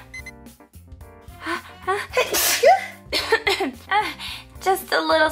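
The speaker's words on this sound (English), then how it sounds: "Just a little sneeze." A single short sneeze from a toy-play doll scene, sharp and close, surrounded by bright, lively talk and small electronic-sounding tones.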